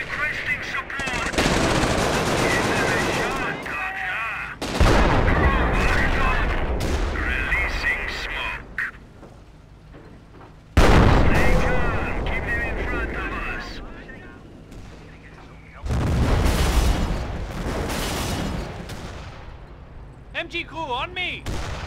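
Heavy gunfire and artillery blasts in a Company of Heroes Blitzkrieg mod battle, loud sustained bursts of shots and booms that come in waves broken by brief lulls, with voices calling out through the fighting.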